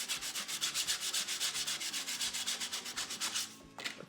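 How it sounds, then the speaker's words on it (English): 220-grit sandpaper rubs along the edge of a drawer front covered in decor tissue paper: quick, regular back-and-forth scratchy strokes, close and soft, ending with a few looser rubs and no talking. "it's sanding through the tissue paper"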